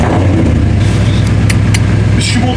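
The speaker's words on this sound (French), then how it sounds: "On va allumer la S8 sans échappement les gars." An Audi S8 V8 engine runs with its exhaust removed, giving a loud, close, raw rumble that pulses steadily throughout, with brief sharper crackles on top and a voice speaking over it.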